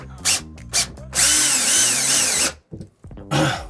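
A power drill drives four screws into a plastic RV roof vent shroud, two short bursts followed by a long steady whirring run of about a second and a half, then brief clicks and a final burst, close and loud.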